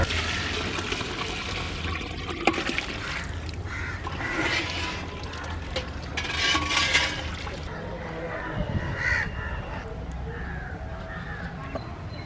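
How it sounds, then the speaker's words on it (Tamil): Water is poured into a pot of basmati rice for vegetable pulao, a splashing, gurgling stream with a faint voice in the background. "அடுத்தது தண்ணி ஆட் பண்ணிக்கிறேங்க."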